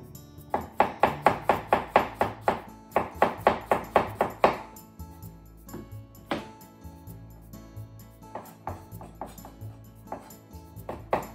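A knife cutting cucumber into strips on a board, a quick run of about a dozen evenly spaced close knocks, a pause, then a few scattered single chops.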